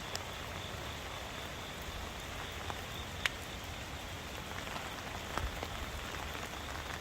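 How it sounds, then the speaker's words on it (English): Heavy rain from Hurricane Helene pours steadily in Atlanta, a dense, constant hiss of drops on surfaces with a few sharper nearby splats, no voices. "Oh my gosh, it's full. It is definitely full and flowing over. So we've gotten at least 8 inches of rain."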